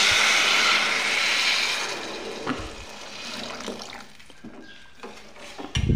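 Water poured into a pan of matki (moth bean) curry, a steady rushing splash at first that gradually thins out, followed by a few scattered clinks and taps near the end.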